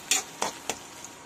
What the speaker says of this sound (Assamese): মোৰ ৰিফাইন গৰম হৈ গৈছে, তাৰ বাবে মই পিঁয়াজখিনি ইয়াতে দি দিলো